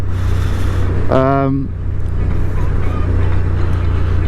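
A motorcycle engine drones steadily in third gear at around 70 km/h on a road in France, with heavy low rumble and wind noise and a short harmonic horn-like tone midway.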